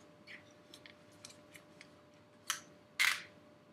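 Bose OE2i headphones being folded and twisted, giving a few faint plastic clicks and soft handling taps, then two sharper snaps near the end, all close and quiet with no speech.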